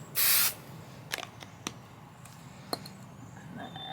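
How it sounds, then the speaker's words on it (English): Spray bottle misting quilt backing fabric, one short sharp hiss up close, followed by a few quiet taps and handling sounds. "Just gonna do a mist there."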